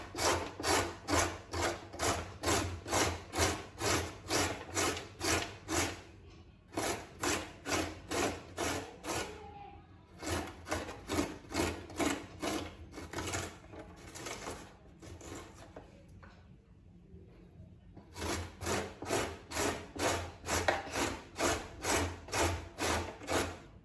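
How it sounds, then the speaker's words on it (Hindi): Carrots being grated by hand in a home kitchen: steady, rhythmic back-and-forth rasping strokes in close repeated bursts, pausing twice before resuming, with no talking. "अब गाजरें कद्दूकस करते हैं।"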